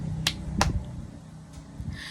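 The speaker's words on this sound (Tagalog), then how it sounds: "Bigyan ng isang palakpak si Rika." A few sharp claps or snaps for a student during an online class, two distinct crisp hits close together followed by faint softer taps, with background hum and no talking.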